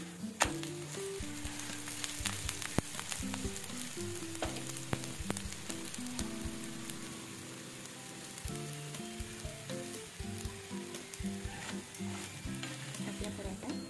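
Cucumber thalipeeth, a Maharashtrian flatbread, fries in a pan with a steady hiss and scattered crackles throughout, accompanied by background music with no talking.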